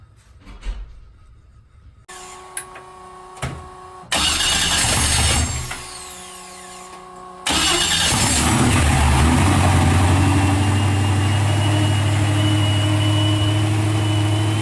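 A Corvette C6 drift build's LS3 V8 cranks and fires for the first time after a few false starts, then settles into a loud, steady, rumbling idle close by.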